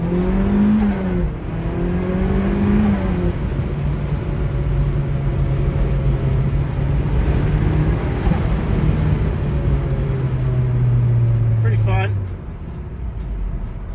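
A 2.5-litre NC Mazda MX-5 Miata fitted with a Fab9 Tuning GT kit drives along, its engine a steady, loud drone that rises and holds before easing off near the end.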